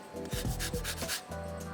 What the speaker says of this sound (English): I'm gonna add the grated zest of a clementine or a mandarin or an orange